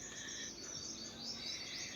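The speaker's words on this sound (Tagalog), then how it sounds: "Iba-ibang tunog ng ibon." Several kinds of birds call outdoors, a dense mix of high chirps and trills with steady insect-like buzzing underneath, moderately distant and fairly faint, with no talking.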